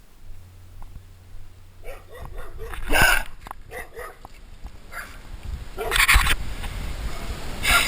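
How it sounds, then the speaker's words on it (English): A three-legged dog barks in several sharp bursts, with yips and whimpers between them, fairly close amid outdoor background noise. "Chased after by a 3-legged dog."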